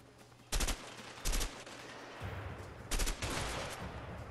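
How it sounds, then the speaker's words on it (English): Trench gun fire in a video game: four loud, sharp blasts in quick succession, with lower rumbling background noise between shots. "I'm getting in there, I got my trench gun."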